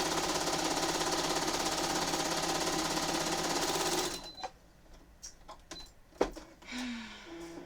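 A sewing machine stitching a quilt runs steadily with a fast, even mechanical whir for about four seconds, then stops, followed by scattered clicks and a sharp knock from handling.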